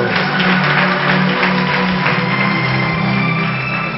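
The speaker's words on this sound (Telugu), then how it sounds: "చప్పట్లో" A crowd clapping at a church prayer meeting, dense sustained applause from many hands, loud and even throughout, with a faint voice underneath.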